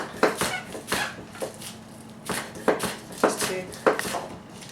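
A knife chops bell pepper and green onion on a cutting board, sharp close taps falling in quick uneven clusters of about a dozen strikes.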